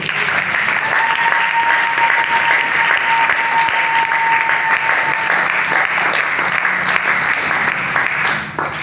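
A church congregation applauds in sustained, dense clapping that fills the room and holds steady throughout, with a faint tone running underneath for a while.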